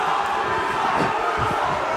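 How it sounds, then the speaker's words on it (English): A crowd roars steadily at a boxing bout in the final round, a dense, continuous wall of cheering and shouting with no clear breaks across the whole stretch. "And the crowd are going crazy here."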